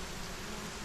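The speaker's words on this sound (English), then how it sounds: "let's drink till we're full while it's raining" Rain falling in the video game Solarpunk, a dense, even hiss of steady rainfall with no gaps, heard alone.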